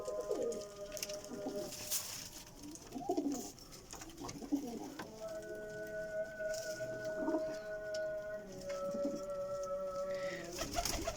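Kasuri pigeons coo repeatedly in a breeding setup, soft rolling calls overlapping from several birds at close range, with faint background noise and no talking.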